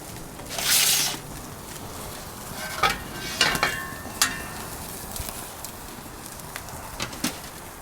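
A tomahawk steak sears in a Slow 'N Sear travel kettle grill with a soft, continuous sizzle, a brief whooshing flare near the start and scattered crackles and pops, close and alone.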